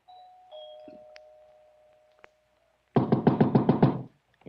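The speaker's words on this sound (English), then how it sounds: "punched the doorbell, and heard it ring inside" In an old-time radio drama, a doorbell tone rings inside a house and fades, followed by a sharp tap, then a rapid series of loud knocks on a door.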